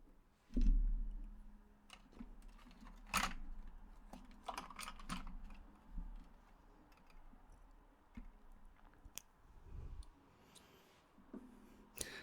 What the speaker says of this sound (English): Alright, I guess I have no choice but to take those screws off.